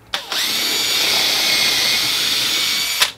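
A power drill with a 6 mm woodworking bit in a drill guide whines steadily at high pitch for about three seconds, boring into material, with brief clicks as it starts and stops.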